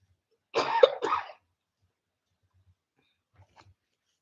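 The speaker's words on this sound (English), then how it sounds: "Suddenly my cough is back." Two quick, harsh coughs from one person come close together near the microphone, followed by near silence with a couple of faint soft sounds.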